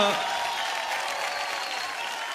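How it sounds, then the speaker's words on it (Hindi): A burst of enthusiastic applause from a crowd, loud and sustained for a couple of seconds. "दोनों के लिए जोरदार तालियां हो जाए जरा"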